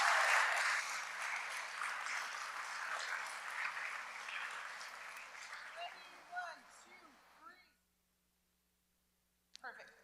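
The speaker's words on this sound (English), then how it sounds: "can we have one more round of applause for our Spelling Bee Award recipients?" A meeting audience applauds Spelling Bee award recipients at a school board session, moderately distant clapping that gradually thins and dies away into silence, followed by a brief sound at the very end.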